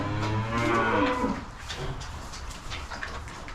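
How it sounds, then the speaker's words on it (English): Cattle fed second-cut silage moo loudly and close, one long low call followed by fainter lowing and farmyard noise. "Bloody cattle, I don't know what is wrong with them."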